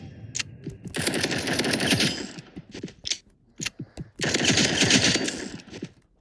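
A revolver is fan-fired in the video game Rivals: two loud, rapid bursts of gunfire, each a quick rattling string of shots, separated by sparse single clicks and mechanical clacks.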